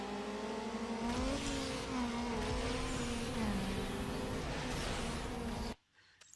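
A race car in Need for Speed: Underground launches and accelerates, its engine tone rising and falling through several gear shifts as a loud, steady roar that cuts off abruptly near the end.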